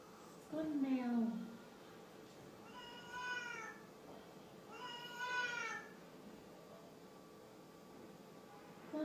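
A young child imitates a cat, giving a drawn-out meow near the start and two more high, wavering meows later, soft and close in a quiet room.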